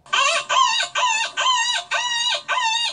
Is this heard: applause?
no